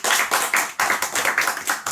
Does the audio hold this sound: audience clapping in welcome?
yes